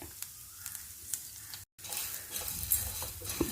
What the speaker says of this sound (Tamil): வறுக்கும் போது நமக்கு அந்த பொரியிற சத்தம் கேட்கும்.